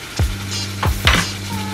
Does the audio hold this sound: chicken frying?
yes